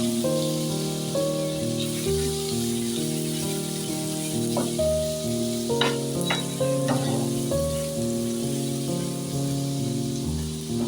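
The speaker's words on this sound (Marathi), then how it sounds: "एक चमचा भरून आलं लसूण घेतलेलं आहे आपण आणि घ्यास ना मंद ठेवा एक दोन मिनटं परतवून घ्या" Ginger garlic paste sautés on low heat in a pan for an Agri-style squid masala, a continuous close sizzle and crackle with scattered stirring clinks, and no talking.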